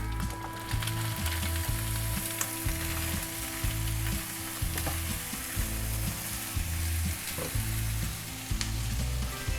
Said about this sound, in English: my onions and my ginger garlic paste have been going for about a minute, and now I'm going to add the potatoes